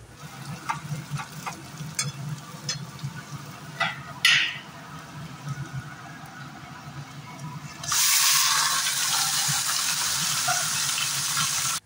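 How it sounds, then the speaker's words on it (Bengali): Onions frying in oil with garam masala: a low steady sizzle with occasional stirring clicks, then a sudden louder hissing surge near the end as more goes into the pan, no talk. "এবার পেঁয়াজগুলো ভেজে নেব"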